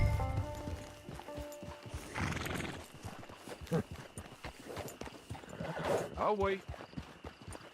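Horse hooves clip-clop at a steady walking rhythm in the video game Red Dead Online, with a whinny and saddle creaks, under game dialogue and someone speaking.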